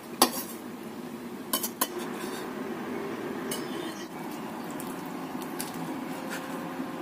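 Cutlery clinks and scrapes against a plate a few times as chicken is arranged on it, quiet and close, over a soft steady background hiss.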